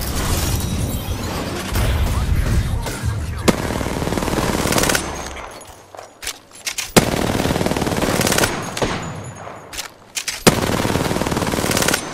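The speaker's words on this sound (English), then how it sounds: "Shots fired, and they're hitting me." Automatic weapon fire in the Apex Legends video game, rapid bursts of gunshots repeating in several clusters across the clip, loud and close, with brief lulls between volleys.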